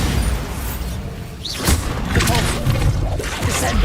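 A Bombarda spell blast in Hogwarts Legacy: a sharp booming explosion with a whooshing burst and debris-like crackle, followed by further thuds and impacts, loud and close amid busy game noise.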